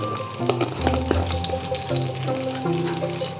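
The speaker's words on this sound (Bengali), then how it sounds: "একটু ফ্রাই করে নিচ্ছি তার মধ্যে দিয়ে দিয়েছি আমি দুটো দারচিনি দুটো লবঙ্গ দিচ্ছি" Cinnamon, cloves and cardamom fry in oil in a pan, a close crackling sizzle broken by scraping stirs and metallic clinks, with a low tonal hum running underneath and no voices.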